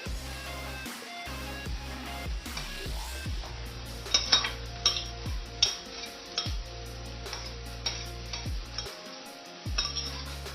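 Onion, ginger, garlic and green chilli frying in oil alongside bitter gourd, stirred with a spoon that clinks and scrapes against the pan in irregular knocks over a steady low sizzle.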